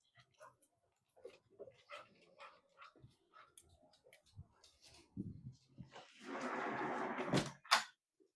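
Two or more dogs bark and whimper indoors in scattered bursts, building into a loud sustained outburst near the end. Faint movement noises come between the barks.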